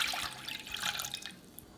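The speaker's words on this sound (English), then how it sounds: "pour in the orange juice" Orange juice is poured into a pot over medium heat, giving a soft, close liquid trickle and splash with faint droplets, steady and quiet for under two seconds with no voices.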